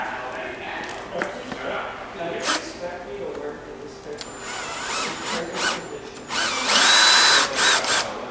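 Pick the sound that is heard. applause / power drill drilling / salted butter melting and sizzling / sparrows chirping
power drill drilling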